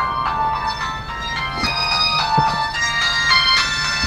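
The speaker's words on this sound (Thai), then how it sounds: "เออโทรศัพท์พี่เบียร์มาแล้วมั้ง" A phone ringtone plays a repeating melodic electronic tune, fairly loud and steady throughout, with no talking over it.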